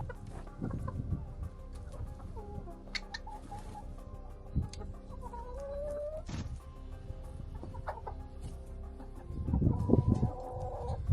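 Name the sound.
chickens clucking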